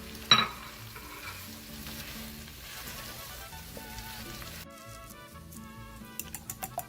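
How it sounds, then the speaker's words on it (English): Onion, jalapeno and potatoes sizzle steadily in a frying pan while a utensil stirs them. The cooking is close and continuous, and a quick run of sharp clicks comes near the end. "Add onion and jalapeno, give it a mix, and you're gonna cook this until the onions are soft."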